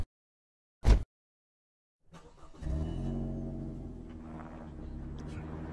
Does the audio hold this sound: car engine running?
yes